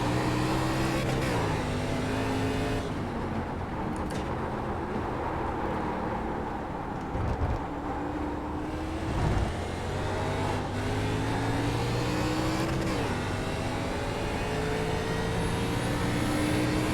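Race car engine in a racing video game at Daytona, a steady loud drone whose pitch sweeps up and down through gear changes and braking, with brief dips and thumps mid-run.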